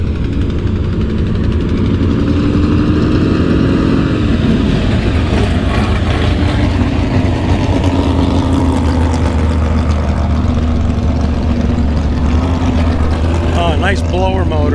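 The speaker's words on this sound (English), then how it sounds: "Oh, nice blower motor." A supercharged blower engine on a drag racing car rumbles loudly and close at a drag strip, its deep throbbing note rising and building, with voices talking over it.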